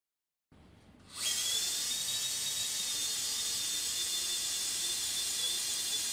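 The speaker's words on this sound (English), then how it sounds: "A 70 mm locking screw is initially inserted under power" Surgical power drill driving a 70 mm locking screw into a pediatric hip plate: a faint click, then a high, steady whine that spins up within a second and holds evenly to the end, with no talk.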